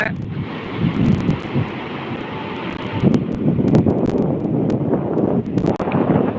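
Sea waves wash onto a shore at Colachel under strong wind, loud gusty buffeting on the microphone mixed with rolling surf surges, no talking heard.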